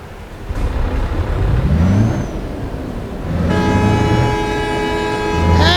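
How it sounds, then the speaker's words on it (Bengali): A rice-laden truck drives through heavy traffic in the Euro Truck Simulator 2 game, its engine droning steadily throughout, with a hiss like an air brake and a higher whining tone joining in the latter half. "চালের ট্রাক নিয়ে আজকে আমরা টাঙ্গাইল যাচ্ছি"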